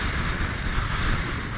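Strong wind at sea roars steadily past the microphone aboard a boat, with a constant loud rush of wind buffeting and possible wave wash underneath and no talking.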